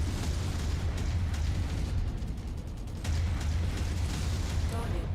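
Artillery explosions in MechWarrior 5: a continuous heavy rumble of blasts and booms with bursts of crackling debris, loud and dense, with a brief lull in the middle before the barrage resumes.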